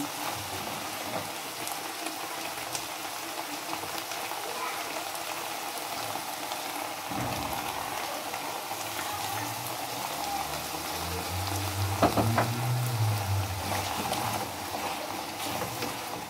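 Tomatoes hit a hot frying pan of minced meat for spaghetti bolognese, bringing a steady hiss and bubbling sizzle that swells partway through, with no talk.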